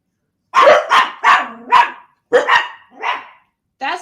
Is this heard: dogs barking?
yes